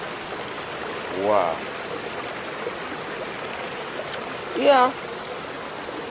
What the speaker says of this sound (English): There is really a lot of water. The Kaela Waterfalls.